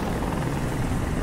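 A helicopter in the video game Detroit: Become Human roars steadily, a loud, dense rotor and engine noise filling the whole moment without a break.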